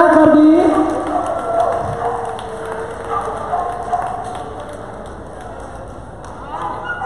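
Crowd clapping and cheering at a dog show in Bali, with a dense patter of hands, loudest at the start and gradually tapering, with shouts and voices mixed in.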